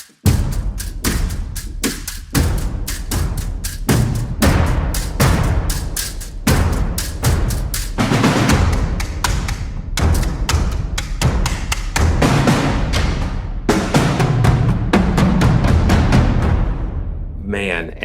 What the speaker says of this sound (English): PVC pipes.